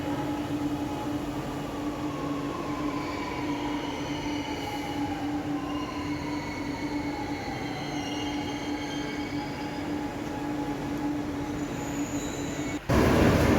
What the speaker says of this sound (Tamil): பக்கத்தில் ஒரு ட்ரெயின் வந்துடுச்சு.